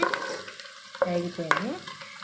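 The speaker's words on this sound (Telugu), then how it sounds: "ఇదిగో చూసారు కదా, పోపు అయితే ఆల్మోస్ట్ వేగిపోయింది." Tempering spices with fresh ginger and garlic fry in hot oil in a pan. A soft steady sizzle runs throughout, broken by a few sharp scrapes of a spoon stirring close by.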